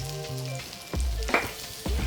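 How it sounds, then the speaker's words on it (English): A butter and flour roux cooks in a pan, sizzling steadily while a utensil scrapes through it in a few distinct strokes, close and fairly loud. "I'm just going to mix this all together. I'm going to let this flour cook for just a second."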